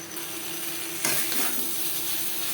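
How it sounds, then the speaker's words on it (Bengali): Pointed gourd tossed with coconut and spices in a hot pan, a soft steady sizzle with a brief scraping stir near the middle, close and fairly quiet, no voices. "নারকেল ও মশলার সাথে পটল দু তিন মিনিট নাড়াচাড়া করে দেবো"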